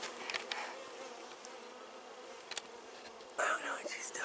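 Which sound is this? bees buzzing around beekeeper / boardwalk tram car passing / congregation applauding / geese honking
bees buzzing around beekeeper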